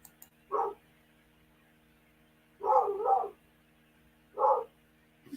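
A dog indoors gives three short, sharp barks spaced a couple of seconds apart, with a faint hum underneath and quiet between them.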